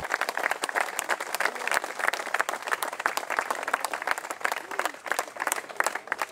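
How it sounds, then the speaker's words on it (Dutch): More than 400 supporters applaud at a football club's first preseason gathering, a dense, steady clatter of clapping hands that carries on unbroken throughout. "Onder luid applaus van ruim 400 supporters kwamen de spelers voor het eerst samen"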